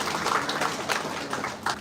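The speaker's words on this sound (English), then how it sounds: "Let us give a huge round of applause to these upcoming biotechnologies and our future BID" Applause for graduating biotechnology students at an institute ceremony, a brief patter of clapping from a crowd, moderately loud and uneven, with no talk over it.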